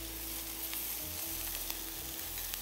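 Minced meat sizzles steadily in hot oil in a pan, a dense, continuous frying hiss with low rumbling underneath and a few soft clicks, close and fairly even, with no talking.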